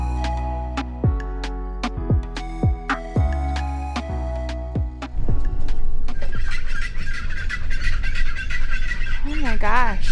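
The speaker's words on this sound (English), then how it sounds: "We thought something was wrong with the truck, but that's a bird." Loud squawking birds calling from trees in Ahuacatlán, Mexico, harsh rising and falling cries first sounding in separate bursts over a low droning truck engine, then merging into a dense, noisy chorus.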